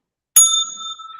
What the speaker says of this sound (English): Ringing a bell.